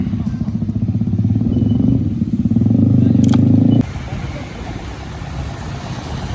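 A motorcycle engine drones steadily nearby, rising slightly in pitch before cutting to a rougher, lower running noise with road rumble.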